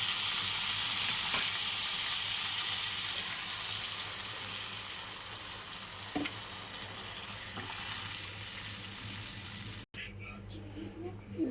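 Cauliflower sizzles and fries steadily in a pan as water is poured in for a Bengali fish-and-cauliflower curry, a continuous loud crackle with a few small clinks and a brief knock near the end.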